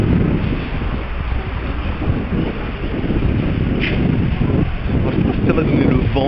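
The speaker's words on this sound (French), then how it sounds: "Vous allez entendre rien. Gauche, vous allez entendre que le vent." Loud, steady wind buffeting the microphone on a city street in Shenzhen, a continuous rumbling roar with nothing else clearly audible through it.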